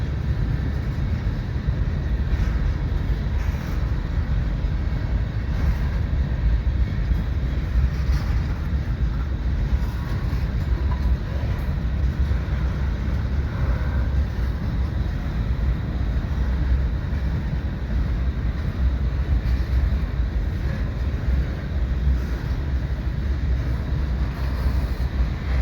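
A BN freight train in original paint rolls past, producing a continuous heavy low rumble that holds steady and fairly close for the whole stretch, with no voices.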